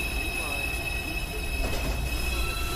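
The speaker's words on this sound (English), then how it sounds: "Downtown Express 2 train approaching the station." A New York City subway 2 train pulls into the 215th Street station, its wheels squealing in a high, sustained whine over a rumbling, rattling rail noise. The train is loud and close.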